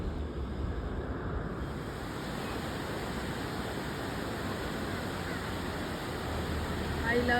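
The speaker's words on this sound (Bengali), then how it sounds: "দুধ সাদা জল নেমে আসছে, অনেকে স্নান করছে।" Milk-white water cascading down a monsoon waterfall at Rohini, a steady broadband rush heard at moderate distance without a break.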